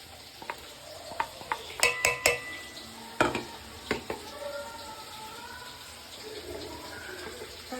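Potatoes being stirred and turned over in a cooking pan with onion and ginger-garlic paste, a handful of sharp scraping clacks of the utensil against the pan over a faint sizzle, then quieter scraping.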